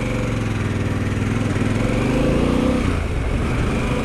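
Harley-Davidson Pan America motorcycle engine running at very slow speed, a steady, close, loud mechanical drone with a low throbbing pulse that holds level throughout, with no talking.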